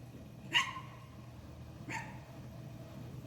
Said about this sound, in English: My dogs see stuff, they think they got to bark.